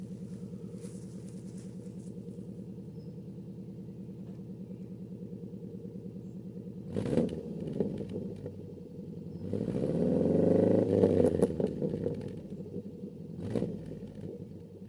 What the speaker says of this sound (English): So the exhaust is non-standard, it's from a Jaguar, so it really gives the sort of nice boxer Subaru sound